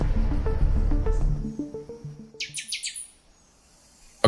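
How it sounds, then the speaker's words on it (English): Wild birds chirp and sing in a quick run of bright, repeated high notes that fade out into near silence. "Birds."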